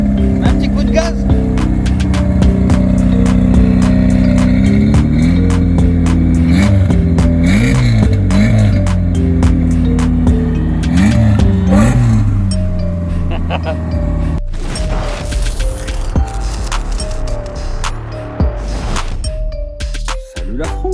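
Revving of a 1988-era style VW Golf MK2 GTI with a 1.8 litre 8-valve four-cylinder engine, loud and close, rising and falling in repeated throttle blips, with a shift to a rougher, noisier idle partway through.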